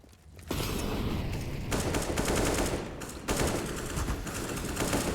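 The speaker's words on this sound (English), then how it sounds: "AK's popping away on the A ramp so far." Rapid bursts of AK rifle fire in the CS:GO video game on the Vertigo map's A ramp, loud, dense overlapping shots that continue almost without pause and briefly dip before resuming.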